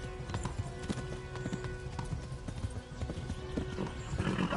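Horse hooves galloping in the Kingdom Come Deliverance video game, a fast, steady clip-clop rhythm heard fairly faintly throughout the short stretch.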